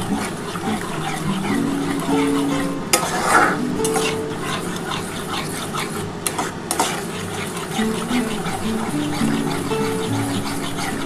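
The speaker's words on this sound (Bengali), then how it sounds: "এবার এই মশলার জলটার সাথে খুব ভালোভাবে কষাতে হবে।" Spice paste for an egg curry is stirred with masala water in a hot pan, a continuous wet sizzle under busy stirring scrapes and clinks of utensil on metal, close and steady with no speech.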